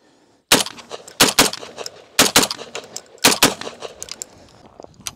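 Pistol fitted with a Nextorch WL50IR weapon light emptying its last seven rounds in quick bursts, loud close cracks in tight clusters with brief gaps, echoing between shots.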